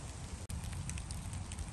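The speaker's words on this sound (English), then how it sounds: "It is actually just straight up raining out here" Steady rain falling outdoors during a winter shower in snake country, a continuous broadband hiss of drops with faint scattered patters, with one very brief dropout near the start.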